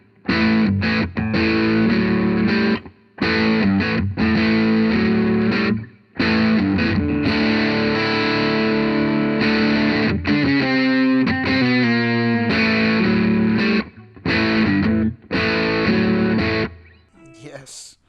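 Electric guitar played through a Kinsmen Ethos overdrive pedal, loud distorted chords and riffs in bursts separated by brief silent gaps, with a run of sustained notes midway and no talking.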